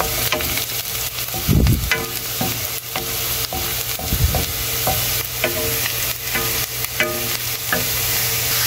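Onion frying in a pan sizzles continuously and loudly while a utensil stirs it, with repeated scraping strokes around 1.5 and 4 seconds.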